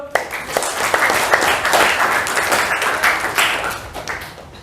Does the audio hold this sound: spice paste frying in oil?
no